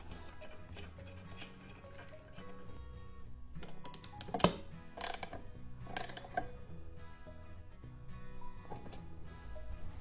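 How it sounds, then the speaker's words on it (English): A socket wrench ratchets while tightening bolts on a WEN 4214 12-inch variable speed drill press, with quick bursts of close metallic clicking and a few sharper knocks. "then I'll tighten them up with the socket wrench"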